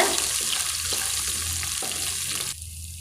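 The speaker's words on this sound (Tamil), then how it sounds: "இதை நல்லா வறுத்துக்கோங்க" Close, steady sizzling of spices and chopped ginger frying in a hot pan for rava pongal, with faint stirring scrapes; no talking.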